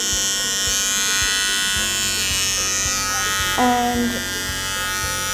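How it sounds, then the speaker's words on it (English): A buzzing electric clipper runs steadily near a dog's paws, its motor hum close and constant, with faint rhythmic ticks and a brief spoken word over it. "turning on our clipper and getting him used to it"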